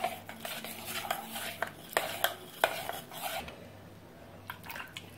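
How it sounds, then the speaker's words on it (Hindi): A spoon stirs milk powder into cold milk in a pot, scraping and clinking against the metal in repeated strokes to break up lumps, then pausing before a few softer taps near the end. "ठंडे दूध में ही इसको अच्छे से मिक्स कर लिया जाए"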